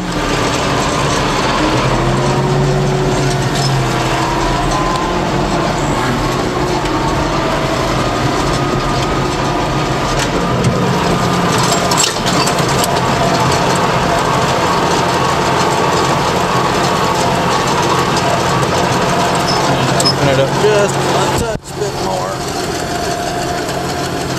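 A farm tractor runs steadily with its PTO engaged, driving a spreader that scatters grass seed over a cow pasture. The engine drone is loud and continuous with rattling mechanical noise, and a brief dip comes near the end.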